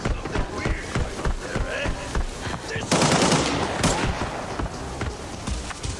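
Rapid gunfire in the shooter game Arena Breakout, bursts of automatic shots with a loud sustained volley in the middle, close and dense, mixed with game effects and faint voices.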